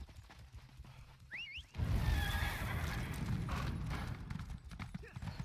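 In Elder Scrolls Online, a horse whinnies, then hooves clip-clop steadily over a loud, busy background with music-like game soundtrack tones.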